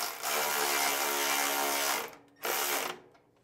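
A 3/8 wrench ratcheting bolts down on a grass flap for a Wright Stander ZK 52-inch mower, two close, rapid clicking runs, the first long and the second short, heard alone.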